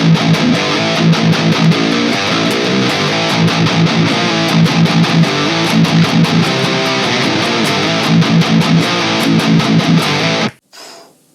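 A distorted electric guitar played through a cabinet simulator impulse response, with a bright, present, slightly nasal Marshall-like tone, chugs a loud, steady rhythmic riff for about ten seconds, then stops abruptly and leaves a short silence.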